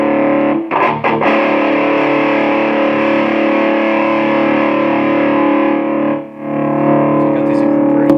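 Electric guitar played through a solid-state amplifier with spring reverb, giving a dense, distorted sustained tone that drones loudly and steadily with a couple of brief dips, no talk over it.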